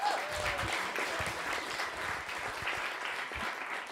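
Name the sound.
audience clapping at coding bootcamp demo day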